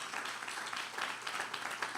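A church congregation claps together in a steady, dense wash of applause that fills the room throughout.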